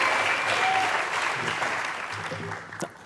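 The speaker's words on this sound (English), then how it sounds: "Keep clapping, he's not here yet." Audience applause at an awards ceremony, a dense, sustained wash of clapping from a large crowd that slowly eases in level, with faint voices beneath it.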